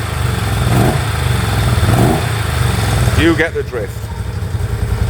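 A restored 1979 Moto Guzzi V35 motorcycle engine runs cold without choke at a steady, throbbing idle, loud and close, while someone talks over it.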